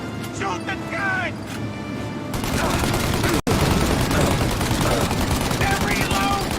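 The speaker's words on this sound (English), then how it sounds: "Now! Shoot the gun!" Sustained gunfire from a remade classic video game, a dense rattle of shots filling the second half under continual shouting voices, with a brief pause in the middle.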